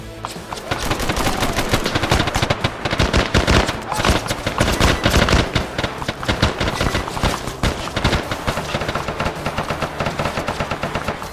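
Dense, sustained gunfire from a military shooter video game, with rapid automatic bursts and single shots crackling continuously at close range and high volume, no gaps and no talking.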